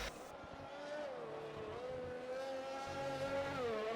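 A Formula One car in the video game F1 2020 at the Abu Dhabi circuit, its high-pitched engine whine sweeping down as it brakes and then rising again on acceleration, steady and fairly close, with no talking.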